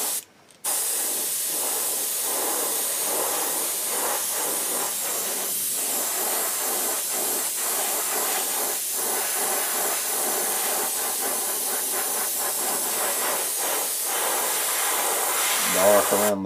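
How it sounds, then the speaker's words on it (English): An airbrush loaded with sepia Indian ink gives a steady, close, even hiss that runs almost without a break while a brown trout pattern is painted, with a faint clatter underneath. "Just gonna light spray."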